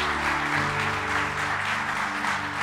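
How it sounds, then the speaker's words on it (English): A congregation at a Sunday church service applauds in a continuous wash of clapping, layered over sustained held musical tones that ring steadily underneath for the full few seconds. "Can you give these families a round of applause this morning?"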